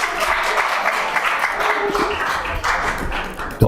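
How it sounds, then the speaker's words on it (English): A city council meeting audience applauds a local resident for printing a T-shirt: dense, fairly loud clapping that stays even through the short stretch. "Can I also get a round of applause for Jenny,"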